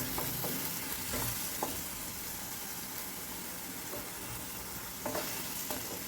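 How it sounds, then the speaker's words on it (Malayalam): Tomato puree sizzling in a frying pan for a breadfruit kofta manchurian, with a constant hiss of frying and a few scraping stirs of a spoon against the pan, close and alone. "ഇതിലേക്ക് നമുക്ക് ഒരു തക്കാളിയുടെ പ്യൂരി ചേർത്ത് കൊടുക്കാം"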